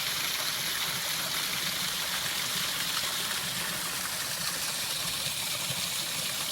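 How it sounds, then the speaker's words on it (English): Water pours out of a natural spring in a steady, close rushing stream, a constant broadband wash with no other sounds over it. "That would be good drinking water, though. Look how much it's flowing out of there,"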